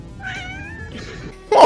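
A cat meowing nearby, one drawn-out wavering meow followed by a shorter second call, then a sharp louder burst at the end, with no talk.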